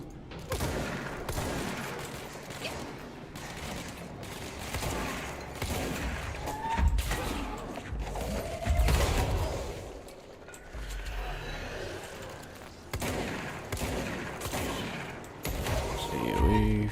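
Shotgun fire in the video game Control, heavy booming blasts spaced irregularly through a dense, noisy action mix with rumbling and clatter throughout.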